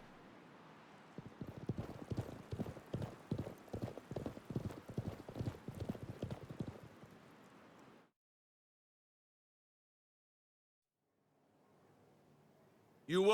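Horse hooves clip-clop in a quick, steady rhythm in the Live A Live video game, loud and close for several seconds before cutting to silence, then a faint low hum and a brief burst at the end.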